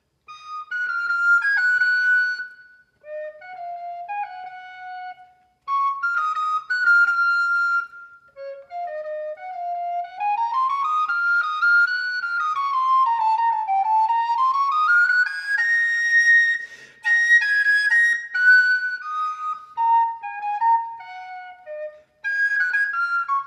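A thin, pure-toned melody winds up and down in phrases separated by short pauses, some phrases answered by quieter repeats, like echoes.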